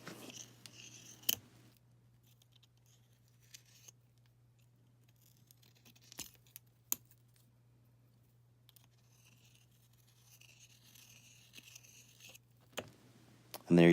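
Snips cutting around the edge of a one-ounce copper round, a handful of sharp isolated clicks and snaps spaced apart over a quiet background with a low steady hum.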